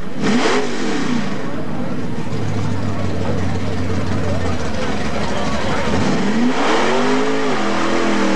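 An old Ford truck engine at a 1997 mud run: loud revving that climbs in pitch, drops into a steady low drone, then roars up again, close and dominant, with voices heard over it.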